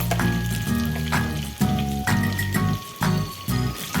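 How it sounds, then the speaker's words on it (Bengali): Potato pieces seasoned with turmeric powder and a little salt fry in hot oil in a pan, a steady close sizzle with bursts of crackling and popping that swell and fade every second or so. "এইভাবে আলুগুলোকে ভেজে নিচ্ছি"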